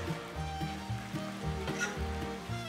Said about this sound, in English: Fry onions till golden brown.